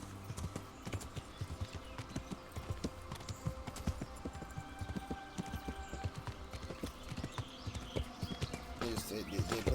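Horse hooves clip-clop in a rapid, steady rhythm in a video game, with a brief whinny near the end, while a person talks over the game audio.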